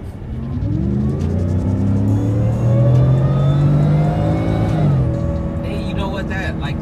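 A supercharged 775 hp Ford F-150 Shelby Super Snake engine revs up, a deep rumbling roar rising in pitch and holding high before dropping back, with voices audible in the background.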